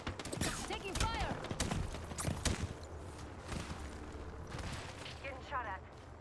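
Gunfire in the battle royale shooter Apex Legends: rapid bursts of weapon shots crackle near and far amid game effects, with a voice talking over the action.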